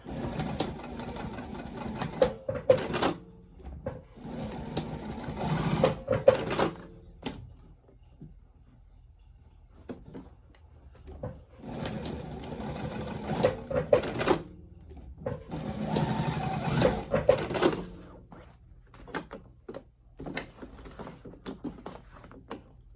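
A sewing machine stitches around a zipper overlay on a crossbody bag, whirring in several bursts of rapid rattling with quiet pauses between runs, close and alone.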